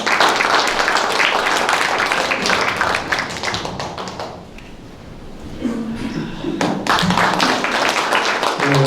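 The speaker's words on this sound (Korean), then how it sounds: "박수로 맞으시면 고맙겠습니다." An audience applauds to welcome a speaker at a youth forum, with dense clapping that thins briefly midway before swelling again, heard loud and close.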